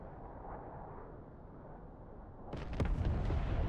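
A laser-guided bomb from an F/A-18C Hornet strikes and destroys a tank in DCS World, a sudden loud boom bursting out of steady low rumble about two-thirds through, then a rolling blast tail.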